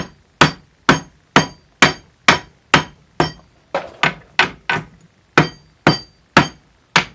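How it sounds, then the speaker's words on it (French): Forging hammer striking hot metal held in a vise while shaping a Viking Mjolnir pendant: about fifteen sharp, ringing blows in a steady rhythm, loud and close, each with a brief metallic decay, with no talk. "C'est dans l'étau, alors on va l'écraser gentiment."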